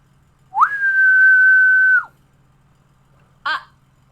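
A single long, steady whistle rings out in a quiet forest, held for about a second and a half, followed after a pause by a short, sharper whistle chirp.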